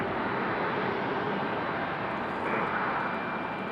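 A Delta Airbus A320 airliner arriving at Raleigh-Durham airport gives a steady, loud, broadband jet engine roar, heard from outside with no voices.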